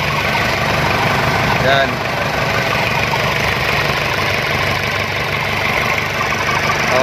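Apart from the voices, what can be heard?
Isuzu Elf 4HG1 truck diesel engine idling after starting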